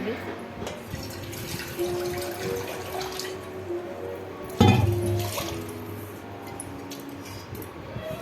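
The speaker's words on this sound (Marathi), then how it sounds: "त्यामध्ये आपण पाणी घालून घेऊ लगेच." Water pours into rice in a pressure cooker for chicken biryani, a continuous close trickle and splash with a few faint clinks, a louder gush midway, while a person talks over it.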